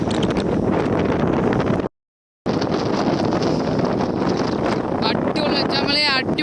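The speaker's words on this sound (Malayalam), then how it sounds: "കാറ്റ് രക്ഷയില്ല. അടിപൊളി കാറ്റാണ്." Strong, roaring wind buffets the microphone in heavy continuous gusts on the hilltop at Panchalimedu, briefly cut off, then returning with faint whistling tones.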